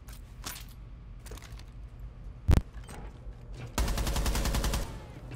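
Gunshots in Rainbow Six Siege: scattered faint shots, one sharp loud crack near the middle, then a rapid sustained burst of automatic fire close by toward the end.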